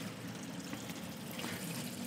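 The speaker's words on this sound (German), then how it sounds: "dann kann man auch mit einem Gartenschlauch oder hier mit ein bisschen Wasser darüber gehen und das Ganze dann reinigen" Water poured or hosed over a heat pump unit during maintenance cleaning, rinsing off sprayed cleaner as a steady, faint wash of splashing and trickling that continues without pause.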